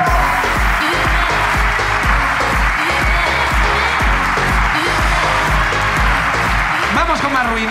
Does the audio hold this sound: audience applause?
yes